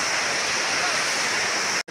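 Rushing stream water flowing beneath a bridge in the Sikkim jungle, a loud, steady broadband roar filling the whole stretch before cutting off abruptly near the end.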